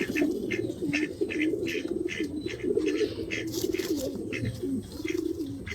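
Racing pigeons in a loft coo in a steady, rolling chorus of overlapping calls with occasional sharper chirps and wing flutters, fairly close and loud throughout.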